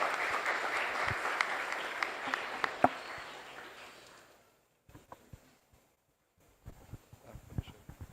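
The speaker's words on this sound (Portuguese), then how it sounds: "vamos pedir uma salva de palmas novamente para todas as apresentações" Audience applause at the close of an academic research presentation session, a loud burst of clapping that fades out, then a few scattered claps and light noises after a pause.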